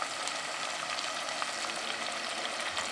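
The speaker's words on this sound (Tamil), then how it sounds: "ஜிஞ்சர் கார்லிக் பேஸ்ட் போடுறேன். போட்டுட்டு 1-2 நிமிஷம் வதக்க போகிறேன்." Ginger garlic paste and curry leaves sautéing in a pan, a steady, dense sizzle of frying that holds an even loudness throughout with faint scattered pops and no voices.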